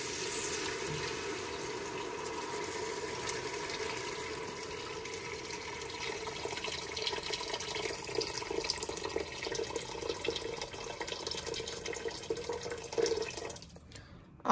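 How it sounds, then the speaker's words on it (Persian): Boiling water pours steadily into a cooking pot of barley soup with fried onions, a continuous splashing, hissing stream that ends abruptly near the close. "آب جوش سرش اضافه کردم"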